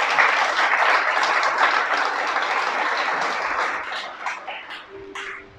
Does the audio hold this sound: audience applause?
yes